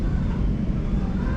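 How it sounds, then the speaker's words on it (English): An Air Canada airplane taking off, a loud, steady low engine roar that stays constant throughout without any voices. "There's one taking off."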